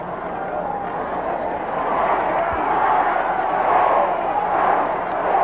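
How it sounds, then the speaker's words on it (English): A crowd of fans at a 1982 high school football finals game roars and cheers in a broad, swelling wash of noise that builds and holds, heard from a distance in the stands. "So the Manton crowd gets excited."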